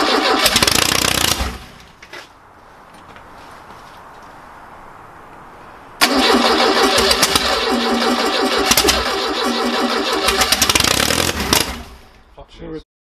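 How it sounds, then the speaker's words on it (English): A 1969 Ford Capri engine cranking and catching with harsh, uneven running and sharp backfire pops, loud and close, dropping to a quieter lull before roaring back for several seconds; no speech is audible. "It's backfiring left, right and centre"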